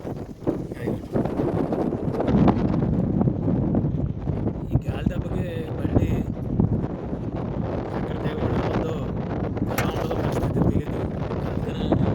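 Strong wind buffets the microphone in the Kuwait desert during a rainstorm, a loud, continuous roar and rumble with someone talking over it throughout.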